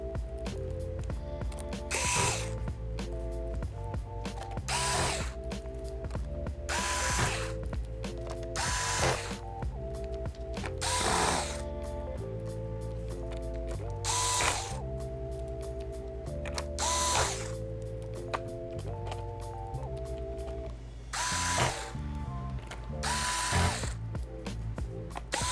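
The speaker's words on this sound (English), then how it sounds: "put your screws back into the bottom cover" A screwdriver ratchets repeatedly as screws are driven into the bottom cover of an Acer Chromebook C722, a close series of clicking bursts with brief pauses between screws, no talking.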